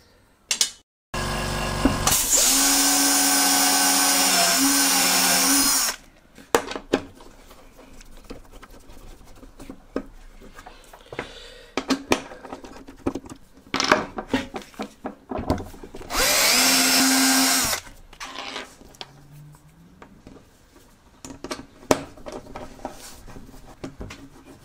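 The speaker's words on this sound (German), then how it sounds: "So, jetzt nur noch die Oberplatte bohren und senken." A power drill bores and countersinks holes in a router table top plate in a workshop. Two loud sustained whining bursts run several seconds each, separated by clatter, tapping and handling noises.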